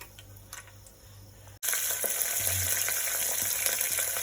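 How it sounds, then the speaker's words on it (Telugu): Whole spices dropped into hot ghee and oil in a pan for bagara rice, a sudden burst of loud, close sizzling that then holds steady after a quieter start. "తర్వాత ఒక చెంచా నెయ్యి ఇంతకుముందు చూయించుకున్న మనం స్పైసెస్ అన్నీ ఇందులో వేసేద్దాం ఇప్పుడు"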